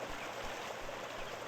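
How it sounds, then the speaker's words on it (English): A loud waterfall nearby gives a constant, even roar of rushing water, a dense hiss without pauses that fills the whole stretch, with no speech over it. "The waterfall's still loud."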